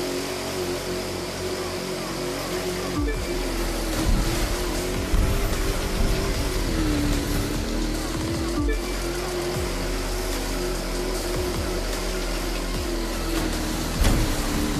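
A car engine in the video game The Crew 2 roars steadily at high revs, with brief surges and shifts in pitch, loud and close, with no talk.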